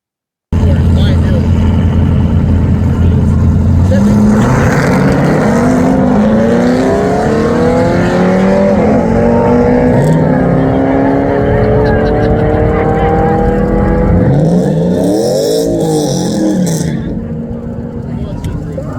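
A loud engine revs hard and climbs through rising gear pitches as a 4-wheel-drive Ram TRX pickup on 35-inch tires accelerates down a quarter-mile drag strip, with the roar continuing steadily through a shift near the end.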